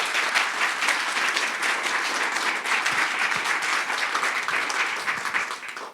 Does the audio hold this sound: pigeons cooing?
no